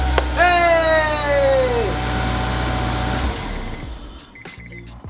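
A Honda S2000 engine cranks and catches, its revs swooping down over about two seconds before settling into a low, steady idle that fades; a voice shouts once.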